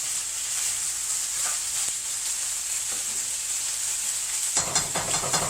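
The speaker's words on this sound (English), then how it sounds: "we got our potatoes in. Give them a nice little stir." Potatoes fry in a pan with a steady, close sizzle and hiss, while a few soft stirring scrapes come through and a busier, louder burst of scraping and crackle follows near the end.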